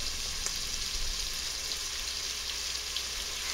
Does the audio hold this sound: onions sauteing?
yes